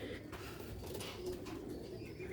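Sialkoti rooftop pigeons coo in low, continuous murmurs close by, with a steady soft hum throughout and no talking.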